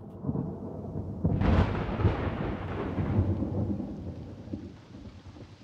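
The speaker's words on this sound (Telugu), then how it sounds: "మరి ఈ రోజు వర్షం ఎందుకు పడుతుంది" Heavy rain pours steadily while a loud roll of thunder breaks in partway through and rumbles on beneath the downpour before easing off.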